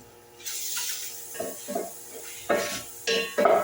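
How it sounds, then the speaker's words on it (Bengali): Meat (laham) is stirred around a pan, giving a few scraping, clattering bursts of utensil against metal with soft sizzling between them, close and moderately quiet, with no talking. "লাহাম দিয়ে দিলাম, দিয়ে ভালো করে একটু নাড়াচাড়া করে নিলাম"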